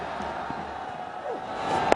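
A cricket crowd at a one-day international cheers a half century, a broad distant roar swelling under a commentator's voice, with a sharp burst near the end.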